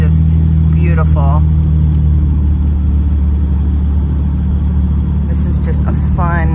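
A 1957 Jaguar XK140 SE fixed head coupe, left-hand drive, hums steadily at a low, even drone while cruising, with a person speaking briefly over it at the start and end.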